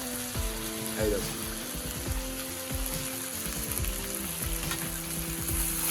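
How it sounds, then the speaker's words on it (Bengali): Chicken meat coated with chili paste sizzles steadily in a pan while a utensil stirs it, scraping and clicking at irregular intervals; constant frying hiss throughout, close and fairly loud, with no talk. "মাংসের মধ্যে লঙ্কা বাটা দিয়ে দেওয়া হলো দিয়ে কিছুটা নেড়ে দেওয়া হলো"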